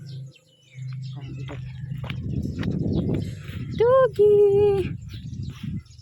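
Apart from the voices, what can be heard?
bird chirping outdoors during a morning walk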